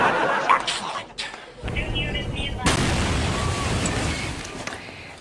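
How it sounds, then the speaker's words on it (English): A Los Angeles bomb squad truck loaded with seized illegal fireworks explodes: a sharp, loud blast followed by a sustained, rumbling roar of burning and debris. Voices talk under and around the noise. "This is the moment a bomb squad truck exploded last night in Los Angeles."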